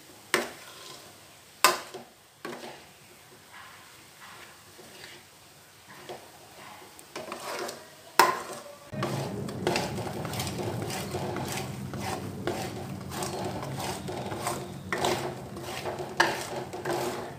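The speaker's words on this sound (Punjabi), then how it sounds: "ਇਹਨੂੰ ਲਗਾਤਾਰ ਹਿਲਾਉਂਦੇ ਰਹੋ ਤਾਂ ਕਿ ਨੀਚੇ ਨਾ ਲੱਗੇ" Gram flour roasting in a pan over a slow flame, stirred with scraping, tapping strokes against the metal; quiet at first, then a steadier, fuller scraping and rustle from about nine seconds on, close and alone without talk.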